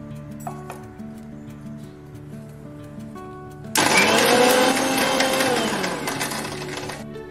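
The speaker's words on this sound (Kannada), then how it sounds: "ಇದನ್ನು ಈಗ ನಾನು ಮಿಕ್ಸಿನಲ್ಲಿ ಹಾಕಿ ಈಗ ಪೌಡ್ರ್ ಮಾಡ್ತಾ ಇದ್ದೀನಿ" Roasted curry leaves are ground to powder in a kitchen mixer grinder. The motor starts abruptly partway through with a loud, dense whir that holds steady and then eases slightly. A quieter stretch with faint clinks comes before it.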